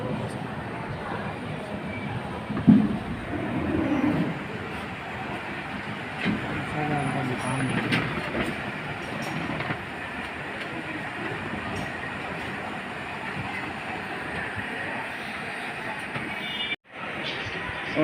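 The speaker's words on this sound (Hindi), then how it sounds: "और हमारी ट्रेन आ चुकी है बरौनी जंक्शन" A train pulls into Barauni Junction station in India, its steady rumble and rolling rail noise carrying through platform ambience, with a brief thump early and a sharp dropout near the end.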